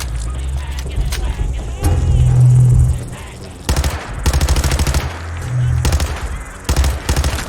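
Gunfire from a weapon in Fallout 4, with several bursts of rapid shots spread across the clip and heavy low rumble beneath them; no speech occurs.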